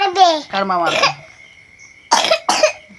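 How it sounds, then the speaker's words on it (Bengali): After a few seconds of talking, two sharp, close coughs burst out in quick succession. "কাশি কমিনি এখনো"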